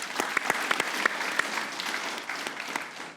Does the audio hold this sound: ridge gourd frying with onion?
no